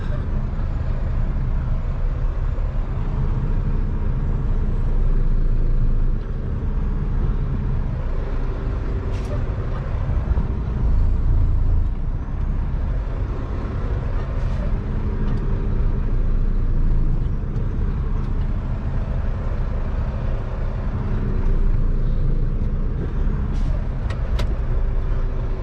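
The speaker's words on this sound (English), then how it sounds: "So, release the truck parking brake, put it on reverse." A semi truck sits running with its parking brake being released before reversing, giving a steady low engine rumble heard from the cab, with a few faint brief hisses and clicks over it.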